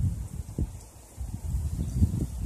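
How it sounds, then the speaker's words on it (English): Strong outdoor wind gusts buffet the microphone in low, uneven rumbling surges that rise and fall over a couple of seconds, with no voices. "I know it's a lot of wind. You guys can hear it."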